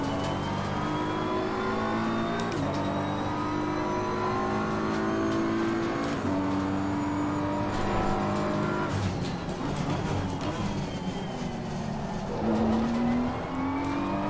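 A GT race car engine in Assetto Corsa Competizione screams through rising revs, with sharp gear changes and a steady loud drone at close range.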